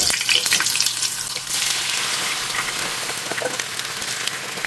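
Potatoes frying in hot oil for a Spanish omelette, a steady bright sizzle and crackle, loudest at first and then settling into continuous frying.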